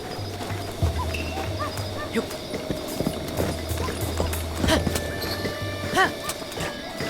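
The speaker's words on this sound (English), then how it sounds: "Yeah, this horse is a little wild." A horse gallops in Zelda: Breath of the Wild, its rapid clip-clop hoofbeats steady and close, with occasional game sound effects and a person talking over it.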